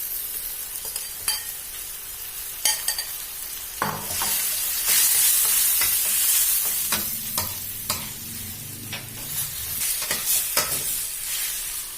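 Instant noodles and kimchi stir-fried in a pan: steady loud sizzling with repeated scraping stirs and clacks of a utensil, no voices.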